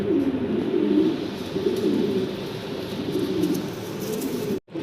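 Fancy pigeons kept for sale cooing together, a dense low murmur of overlapping coos that carries on steadily and close by, with a brief dropout near the end.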